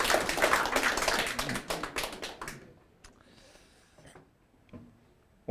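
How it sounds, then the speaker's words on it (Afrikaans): Hand clapping from mourners at a memorial service, a burst of close, sharp claps for about two and a half seconds that quickly dies away into quiet room sound with a few scattered knocks. "Julle kan maar vir my 'n hande klap."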